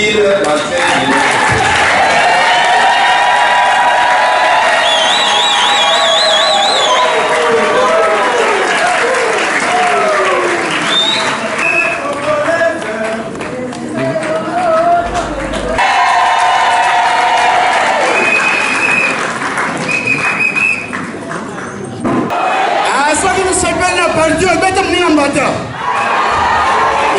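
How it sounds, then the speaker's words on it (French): Festive crowd at a Kinshasa event applauding and cheering loudly and continuously, with shouts, whistles and voices mixed through a dense, sustained roar. "Vous pouvez applaudir la fête de"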